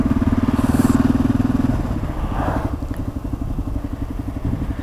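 A motorcycle crawls along slowly in first gear through stop-and-go riding, its engine chugging in a steady close pulse that loosens and eases after a couple of seconds, loud and without talk.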